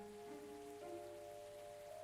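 Steady rain patters on surfaces in the Cthulhu-themed adventure game Gibbous, a soft continuous hiss under faint sustained tones, no voices.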